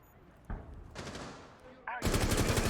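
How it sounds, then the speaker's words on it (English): Gunfire in Rainbow Six Siege during an esports match: a single sharp shot, then a bursting volley and a loud, rapid automatic string at the end, with commentary partly mixed in. "Captain barely misses his shots onto the Jaeger through the wall."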